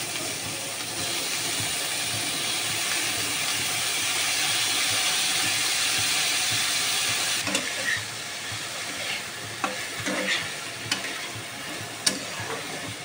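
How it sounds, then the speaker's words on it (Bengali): Steamed watermelon rind pieces frying with spices in a pan, giving a steady, loud sizzle that later gives way to scattered clinks and scrapes of stirring. "সব মশলা দিয়ে ভাজা ভাজা করে নিচ্ছি"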